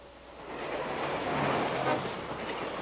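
Passenger train with a dome car running fast along the rails, a steady rumbling roar that swells slightly midway, with no voices over it.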